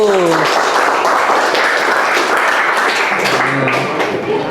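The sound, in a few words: applause for group 1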